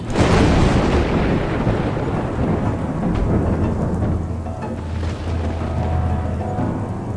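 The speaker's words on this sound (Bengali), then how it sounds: "বাইরে তখন আবার বাজ পড়ার শব্দ" A thunderclap crashes loudly and close, then rolls into a long low rumble under steady heavy rain for about seven seconds, with no voices.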